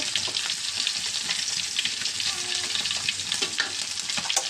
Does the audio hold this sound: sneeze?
no